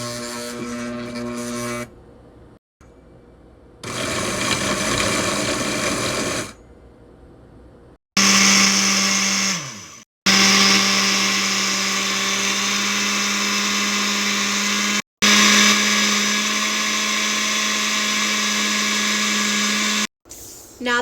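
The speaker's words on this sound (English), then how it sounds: "turn the blender on," A loud blender blending a smoothie whirs in several bursts separated by short pauses, its motor pitch shifting as the contents churn and blend.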